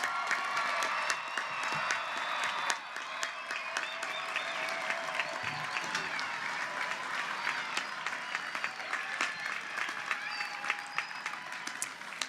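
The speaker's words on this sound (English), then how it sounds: "How about another big round of applause for all of our graduates?" Audience at a Ball State University spring commencement for graduate students applauding the graduates, a long, steady round of clapping from a large crowd with scattered cheers, moderately distant and continuous.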